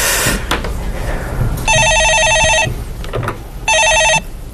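Telephone ringing on a Korean stock-market call-in radio show, two bursts of an electronic ring that are loud and close and sound over faint studio background.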